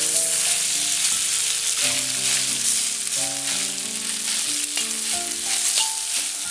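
Cooked broken wheat sizzles and is stirred in a pan with ghee and coconut for a wheat payasam, a steady hiss running beneath louder background music.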